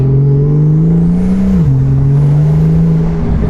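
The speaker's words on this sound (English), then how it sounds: "Buddy, those are factory turbos just spooling away." Factory turbos whine loudly on a $300K+ supercar, a steady close engine drone with a spooling tone that dips briefly and then settles, with no talk.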